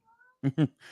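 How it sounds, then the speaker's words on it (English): A hungry cat cries with two sharp, close meows in quick succession, followed by a softer trailing sound. "And if you hear the cats crying, they're probably hungry."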